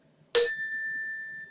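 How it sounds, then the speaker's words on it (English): Zenergy chimes are struck once, a bright metallic ring with a sharp onset and clear sustained tones that decay slowly in quiet surroundings. "they're called Zenergy chimes, and they are just a really kind of cool little tool to use"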